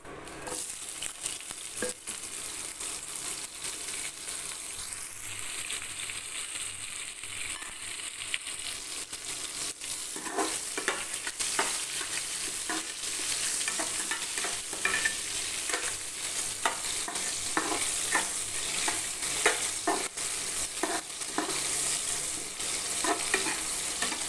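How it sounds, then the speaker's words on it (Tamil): Sliced big onions, three green chillies and curry leaves sauté in hot oil for a mushroom gravy, with a steady close sizzle and crackle and frequent spatula scrapes and taps growing busier partway through. No one speaks. "நல்லா கொஞ்சம் நேரம் வதங்கட்டும் அப்படியே."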